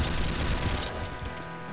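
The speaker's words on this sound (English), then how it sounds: "You're no match for the AK, son." A dense burst of rapid AK rifle fire from Doom II with a realistic guns mod, loud and sustained for about a second before cutting off into a fading tail.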